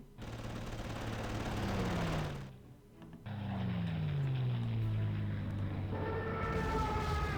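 Artillery barrage in the Panzer Corps wargame, Afrika Korps Malta campaign: a dense roll of rapid gunfire and explosions with descending whistling shells, a brief lull, then a second sustained burst of firing and rumbling impacts.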